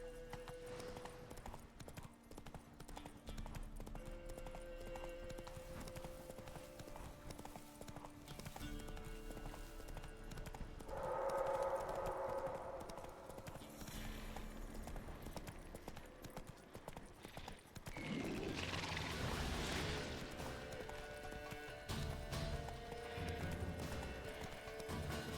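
Roach, Geralt's horse in The Witcher 3, clip-clops steadily on her hooves through the whole stretch with a brief whinny, over game music and ambient sound.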